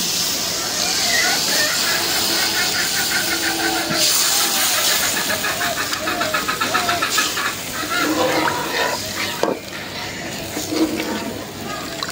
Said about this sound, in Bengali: এখন আমি পানি দিয়ে দেবো, মানে ঝোল।